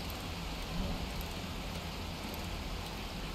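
Rain falls steadily in the survival game 7 Days To Die, a faint continuous hiss of drops on the ground with no talking.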